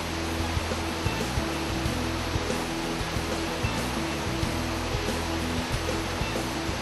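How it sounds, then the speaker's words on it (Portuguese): The waterfalls at Duchas de Prata in Campos do Jordão give a steady, dense roar of falling water, continuous and enveloping throughout, with no voices. "belíssimas quedas d'água que refrescam o ambiente"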